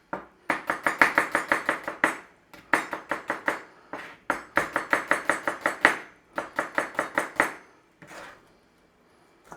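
A knife slicing onions on a cutting board for onion gravy, quick rapid chopping taps in four close, even runs with brief pauses between them.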